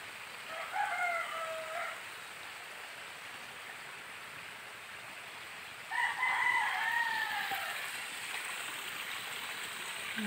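Roosters crow in two separate bouts against a steady outdoor hiss resembling a stream or light rain, with a long quiet stretch between the calls and no talking.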